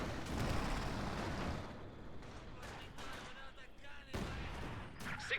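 Six-pounder anti-tank gun firing in a strategy video game: a loud opening burst of booming blasts followed by quieter rumbling gunfire and another sharp report near the end, with a voice talking over it.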